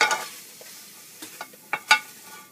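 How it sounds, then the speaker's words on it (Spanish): Tomatillos roast in a hot frying pan, giving soft sizzling with a few scraping and stirring clicks in an uneven rhythm, heard close and fairly quiet. "Vamos a primero en un sartén caliente asar los tomatillos."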